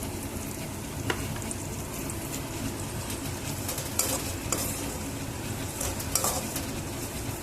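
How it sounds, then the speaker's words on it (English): Chopped beans and carrots stirred into a hot pan for semolina upma, a steady sizzle of frying running throughout with occasional scrapes and clinks of the spoon against the pan. "Now I'm adding the chopped beans and the carrots."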